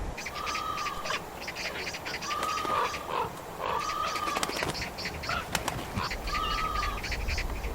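Magpies or crows flapping their wings around a carcass in the Central Asian wild: a steady run of wingbeats under a wide outdoor wash, with a few brief calls and sharp clicks scattered through.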